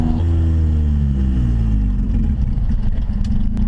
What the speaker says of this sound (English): I love how you can hear the turbo though.